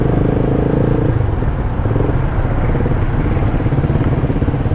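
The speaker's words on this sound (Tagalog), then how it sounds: "Sobrang lakas ng motor na to." A RUSI Flash 150X motorcycle engine rumbles steadily while being ridden in second gear, a loud, close, pulsing drone with no voices over it.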